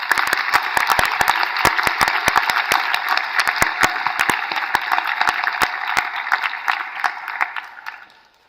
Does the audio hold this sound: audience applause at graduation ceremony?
yes